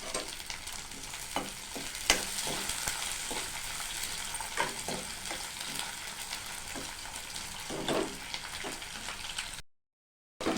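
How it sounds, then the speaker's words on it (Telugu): Dried fish frying with onions and green chillies in hot oil, giving a steady close sizzle broken by occasional scrapes and stirs of a spoon, briefly cut to silence near the end. "ఎండు నెత్తళ్ళు వేశాక మంచిగా వేయించుకోండి. అవి ఎర్రగా వేగేంత వరకు వేయించుకోవాలి."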